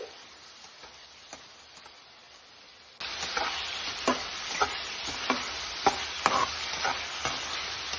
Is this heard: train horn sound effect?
no